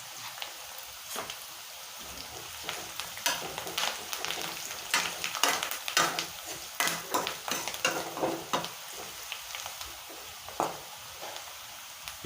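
Turmeric hits hot oil in a pan while an ivy gourd fry is being prepared, making a continuous sizzle broken by irregular clicks and scrapes of stirring that grow busier midway.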